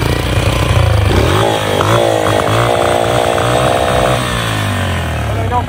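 A carbureted Beta RR 125 four-stroke motorcycle engine drones loud and close at constant throttle, running rough and strained with a buzzy, steady tone that wavers slightly throughout.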